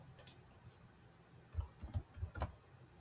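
Computer keyboard typing, a short quiet burst of four or five distinct key clicks in quick succession near the end, preceded by a faint tap.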